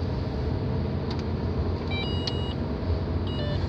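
Faint electronic beeps from a measuring device chirp briefly a few times over a steady, loud engine and road rumble inside a moving police video car.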